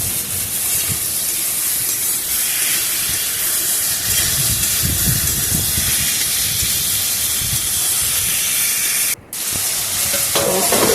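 Vegetables with sugar being stirred and mixed in a pan for a Bengali khichuri, with a continuous hissing sizzle and scraping stir sounds close up, briefly cut near the end, without talk.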